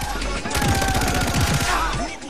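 Automatic gunfire in the video game Far Cry 3, a sustained burst of rapid shots from a full magazine emptied in one go, loud and close, with game ambience underneath.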